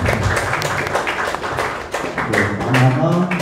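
Students and staff of a vocational school clap at a briefing event, with loud, dense clapping throughout and a voice speaking over it toward the end.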